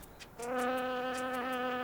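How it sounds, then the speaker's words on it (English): A solitary digger wasp (Ammophila) nesting in loose sandy ground gives a steady, close, high-pitched buzz that starts abruptly after a brief quiet moment and holds evenly to the end. "the Amphiphilia wasp digs a solitary nest in loose, sandy ground"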